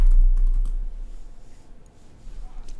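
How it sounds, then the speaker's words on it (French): Quick keystrokes on a computer keyboard as a web search is typed in, a short close run of taps with a slight pause midway, heard alone without talk. "je vais écrire développeur web plus glassdoor.ca"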